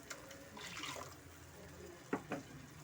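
Water poured into a pot of village-style mutton keema ball curry in a home kitchen, a soft brief splash and trickle, faint and close, followed by a couple of light knocks.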